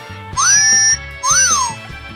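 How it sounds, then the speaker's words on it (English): A handheld electronic sound effects machine plays a synthetic whistle: two loud, clean sliding tones, the first rising and held, the second a quick rise and fall, with a faint buzzy electronic hum beneath. "Whistle."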